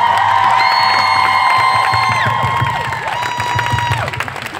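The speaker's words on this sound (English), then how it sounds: "One more round of applause." Audience at a luau show applauding and cheering loudly and steadily, with whoops and sustained tonal sounds carrying over the crowd noise throughout.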